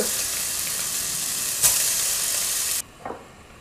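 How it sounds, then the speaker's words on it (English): Tofu pieces fry in oil in a pot with a loud, continuous sizzle and hiss. The sizzle cuts off abruptly, leaving a brief soft clatter afterward. "And add the remaining pieces of tofu"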